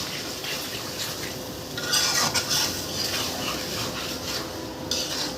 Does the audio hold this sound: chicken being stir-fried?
yes